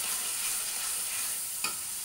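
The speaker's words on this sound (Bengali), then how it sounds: "ভালো মতো কষাতে হবে।" Spices and black pepper sautéing in a pan for spicy pasta sauce give a steady, close hiss of frying with one soft stir-scrape near the end.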